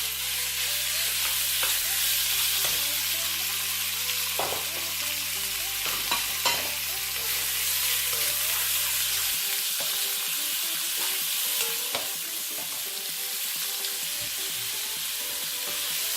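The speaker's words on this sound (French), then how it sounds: "On fait bien revenir la viande." Sliced meat is stir-fried in a hot pan for sautéed vegetable noodles, producing a loud, steady sizzle with intermittent stirring scrapes and clanks of a utensil, while a low hum beneath drops away partway through, no voices.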